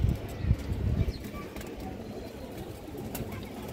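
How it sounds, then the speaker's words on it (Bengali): A pair of big-headed silver khaki pigeons coos faintly under a rumbling background, with a few low thumps early on and soft, indistinct murmurs that continue steadily. "এক পেয়ার সিলভার খাকি কবুতর"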